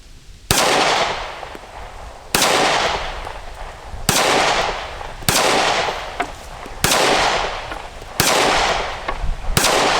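Taurus GX4 pistol fired at targets on a range, a steady series of six loud, sharp shots spaced about two seconds apart, each with a ringing decay and no talking.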